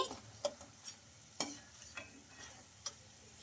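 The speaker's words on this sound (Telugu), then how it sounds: "మురుకులు బాగా ఫ్రై అయ్యే వరకు అయితే ఫ్రై చేసుకోవాలండి" Murukku snacks frying in hot oil and being turned, a faint low bubbling with scattered sharp clicks and taps from the utensil at irregular intervals.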